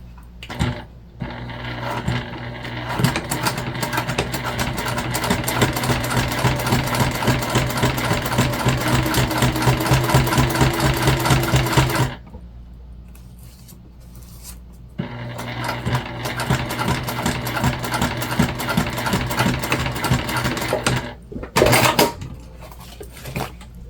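A sewing machine runs steadily, top stitching a fabric zipper pouch wristlet, with a long continuous burst of rapid stitching, a brief pause, then another stretch of stitching, close and loud with no talk.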